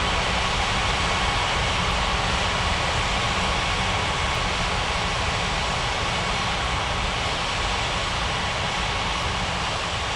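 A simulated airliner departing runway 28 at a snowy airport in a flight game produces a steady, broad engine roar that holds constant and fairly loud throughout, with no voices over it.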